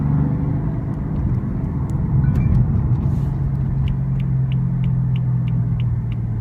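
A 2016 BMW M3 sedan with a double-clutch transmission accelerates on a test drive, its engine a loud, steady droning rumble heard from inside the car, with faint ticking above it and no talk.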